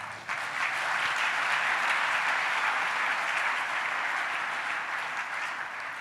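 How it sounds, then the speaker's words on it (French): A church congregation at a family worship service claps steadily and densely, a sustained wash of applause that starts abruptly and holds for several seconds, with no speech over it. "Acclamons Jésus."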